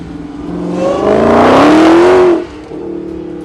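A 2018 Dodge Challenger SRT Demon's 840-horsepower V8 engine revs hard, its pitch climbing to a loud roar before dropping back to a rumbling idle.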